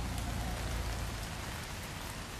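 Steady rain falls in Chattanooga on a wet morning, a dense, even patter on surfaces that stays constant and fairly close throughout, with no voices.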